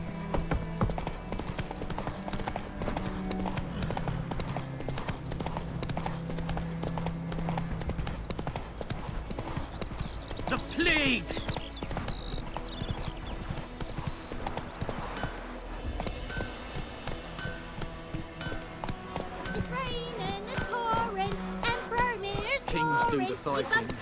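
A horse gallops in The Witcher 3 video game, hooves clip-clopping in a steady fast rhythm close by, beneath game music, with voices talking over the hoofbeats at times.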